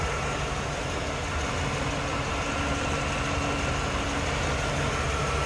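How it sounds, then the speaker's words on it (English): A 1994 Cadillac Fleetwood Brougham's 5.7 liter engine idles steadily, a smooth low rumble with constant broadband noise and no voices, even and unchanging throughout. "Listen how smooth that runs, and you know that's a bulletproof engine"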